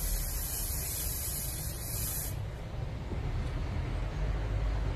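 Plasti Dip aerosol can spraying a car emblem: a loud, steady close hiss for about two seconds, then the spray cuts off and only softer background noise remains.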